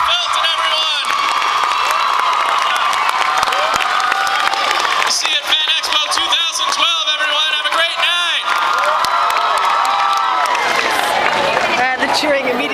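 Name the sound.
crowd cheering and applauding at Fan Expo Q&A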